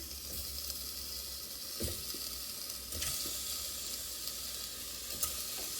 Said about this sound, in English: I'll let that come to the sizzle.